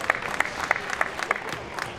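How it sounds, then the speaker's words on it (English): A crowd at a Raiders Hockey Club game against the Screaming Eagles gives a round of applause, with moderate scattered clapping that carries through the arena. "a respectful round of applause from the Raiders and Eagles crowds"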